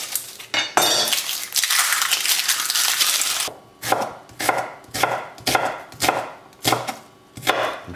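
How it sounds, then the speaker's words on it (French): A knife chops onions on a cutting board for a homemade fish soup, starting with fast continuous rapid chopping, then slowing to a series of distinct, evenly spaced loud chops with no one talking. "je vais émincer les oignons"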